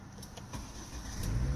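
A Volvo S car, a used import from the USA, starts up with the key: a few faint clicks, then the engine catches and its low rumble builds steadily toward the end, with no talk.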